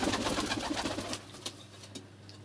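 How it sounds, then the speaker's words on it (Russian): A pigeon coos in a low, steady rumble that continues through the whole stretch, close and fairly even, with a few faint higher chirps and clicks scattered over it and no talking. "Вот он, где у меня утром голубь проходит."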